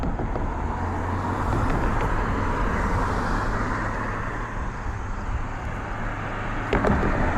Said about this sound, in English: Quite a bit of traffic actually.